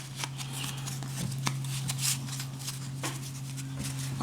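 Jurassic Park trading cards shuffled and sorted by hand at close range, with soft papery slides, flicks and taps over a steady low hum, no talk.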